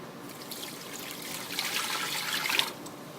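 Vinegar poured into a jar of sugar for kosher dill pickle brine, a steady liquid trickle that swells and brightens toward the end before stopping, quiet and close with no talking.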